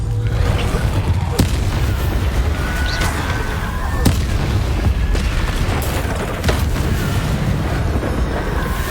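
The Bombarda spell fires during combat in the video game Hogwarts Legacy, setting off a series of sharp, loud booms at irregular intervals over a dense, rumbling battle din.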